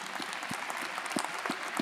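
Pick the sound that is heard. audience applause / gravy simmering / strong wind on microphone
audience applause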